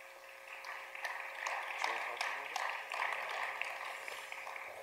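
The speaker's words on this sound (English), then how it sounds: "Yes, please, applause." A live audience applauds the cast of a play reading as they come out, steady moderate clapping sustained for several seconds at mid distance.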